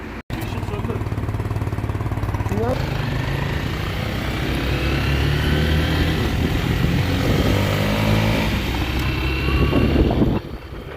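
A motorcycle ridden along roads around Hürmetçi village in Kayseri, its engine holding a steady loud drone with a tonal hum and wind rush throughout, pitch shifting slightly as it runs, then easing off near the end.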